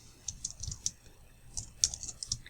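Computer keyboard typing, a quiet uneven run of individual key clicks with short pauses between bursts, close and alone.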